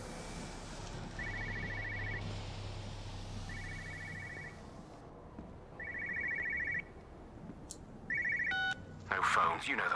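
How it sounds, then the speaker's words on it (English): A telephone in the video game Everybody's Gone To The Rapture rings in repeated short electronic bursts with pauses between, moderately loud over a dense ambient hiss, ending with a few tonal beeps. "Sounds like there's another phone in here."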